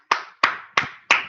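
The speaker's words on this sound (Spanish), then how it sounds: "Un aplauso para los compañeros." Four sharp, evenly spaced handclaps ring out close by in a quiet room during a seminar, each with a short decay and nothing else sounding.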